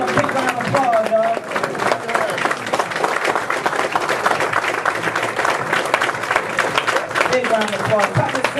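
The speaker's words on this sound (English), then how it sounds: "Big round of applause. Cotton City round of applause." A crowd keeps up steady applause, thick continuous clapping with a voice calling out over it at the start and again near the end.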